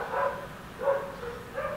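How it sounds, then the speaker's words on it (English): Several neighbourhood dogs bark outdoors in three evenly spaced bursts, somewhat distant and muffled, with steady background hiss between them and no voices. "There's a lot of dogs barking outside"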